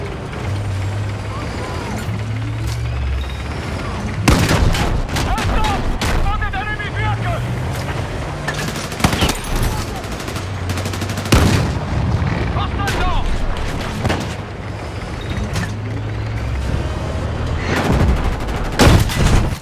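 Battlefield 6 tank combat with repeated heavy gunfire and booming explosions as an IFV is destroyed, loud sharp blasts recurring over a continuous low engine rumble.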